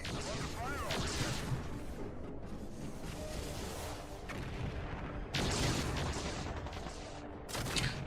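Weapon fire in the MechCommander 2 video game, with dense, continuous booming and crackling battle noise throughout and a louder surge of blasts near the end.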